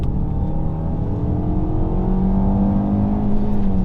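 A naturally aspirated Peugeot 407 Coupé engine revs hard and close, a loud, sustained drone whose pitch climbs steadily and then holds high toward the end, with no talking over it.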